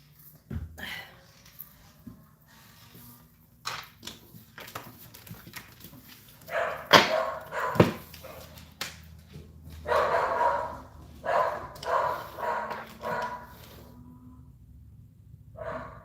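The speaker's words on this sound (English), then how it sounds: "I don't know why my dogs are barking." Several sharp dog barks ring out, some close and loud, others quieter, in irregular bursts over a low background hum.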